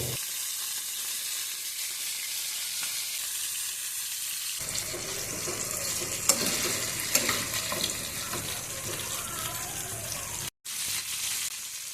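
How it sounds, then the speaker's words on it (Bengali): Chicken fries in hot oil in a kadai with a steady sizzling and crackling, occasional stirring clinks, fairly close and continuous. "প্রথমে কড়াইতে তেল গরম করে আমি মাংসটা ভেজে নেব"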